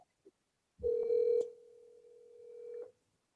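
A landline telephone dial tone after the handset is picked up, a sustained steady tone lasting about two seconds, preceded by a short click and handling noise, with no talking.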